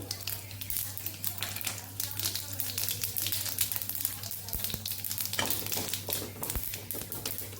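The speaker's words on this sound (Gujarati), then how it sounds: "રાઈ ફૂટે ત્યાં સુધી અડદની દાળ ને ચણાની દાળને આપણે સાતળવાની" Steady crackling sizzle of lentils and mustard seeds frying in hot ghee, with scattered sharp pops over a low constant hum, no talking.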